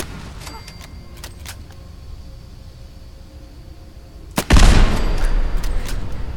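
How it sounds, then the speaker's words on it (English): Gunfire and an explosion in the video game Fallout 4: a few sharp, scattered shots give way to a sudden loud blast and a sustained noisy rumble. "the explosion knocked her down"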